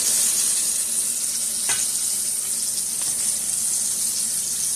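Pork chops fry in hot oil with a dense, steady hiss and crackle, loud and close, for extra crispy fried chops, with a couple of faint clicks and no talking.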